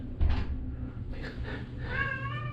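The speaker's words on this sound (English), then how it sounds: "That's the cat." House cat in a basement meowing several times, a short call near the start followed by longer drawn-out mews, fairly close, against a low background hum.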